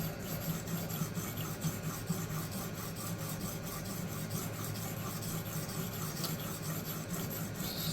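A knife blade rasps steadily across a Ruixin Pro resin bonded diamond sharpening stone in quick, even back-and-forth strokes. The scraping is close and fairly quiet, and nobody speaks.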